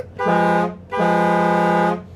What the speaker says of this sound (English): We also have our air horn, which makes it go from this to